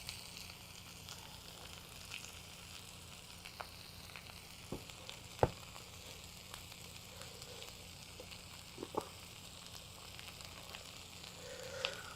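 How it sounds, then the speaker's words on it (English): A spatula mashes food in a sizzling frying pan while cooking an Indian dish: a quiet, continuous sizzle broken by a few sharp scrapes and taps of the utensil against the pan. "I'm going to just start taking my spatula and I'm going to mash some of it on the side"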